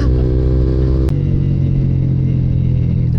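A car engine drones at steady high revs, then abruptly cuts out and drops to a lower rumble as it hits the rev limiter, loud and close inside the vehicle.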